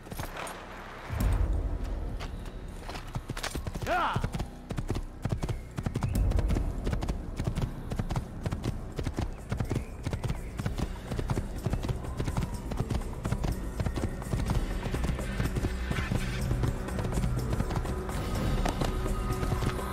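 Galloping hooves of a black horse in the Assassin's Creed video game, rapid rhythmic clip-clop that runs loud and continuous throughout, with a brief whinny early on and faint talk underneath.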